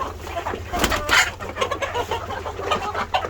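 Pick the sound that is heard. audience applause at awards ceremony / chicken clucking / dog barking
chicken clucking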